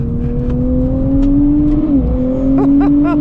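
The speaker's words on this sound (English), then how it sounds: "unleashes the 420 horsepower through the rear limited slip differential and these ultra sticky Dunlop Sport Max tires" A 2024 Nissan Z Nismo with a 420-horsepower engine and rear limited-slip differential accelerates, its loud steady engine drone rising in pitch, dipping briefly as if through a gear change, then climbing again from inside the cabin.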